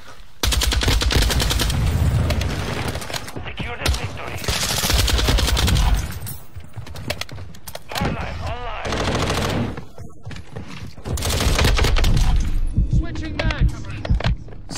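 A Lachmann 762 rifle fires from the hip in MW2 in long, loud, rapid automatic bursts with brief gaps, and a voice talks over parts of the gunfire.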